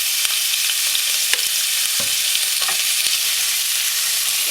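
Minced meat seasoned with shawarma spices fries in olive oil, giving a loud, dense, continuous sizzle up close, with a few sharp knocks and scrapes of stirring.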